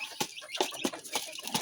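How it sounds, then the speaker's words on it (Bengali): Free-range local hens kept in an enclosure by a riverside home cluck in quick, sharp bursts, several close-up clucks in an uneven rhythm with no speech. "এগুলো সব দেশি মুরগি"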